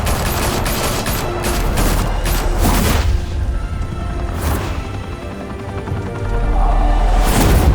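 Gunfire erupts in a Batman video game as a loud, continuous barrage of rapid shots and booming blasts, with dense bursts early on and a heavy rumble building toward the end.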